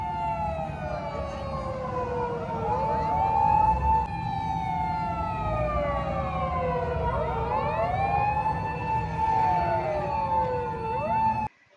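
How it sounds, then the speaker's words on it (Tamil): A Japanese police jeep sounds its alert horn at a car meet, a loud wailing siren sweeping up and down repeatedly for several cycles nearby, with engine rumble beneath, then cutting off abruptly at the end. "இங்கே வந்து ஒரு அலர்ட் பண்ற மாதிரி போலீஸ் ஜீப்போடைய சவுண்டு தான் இது"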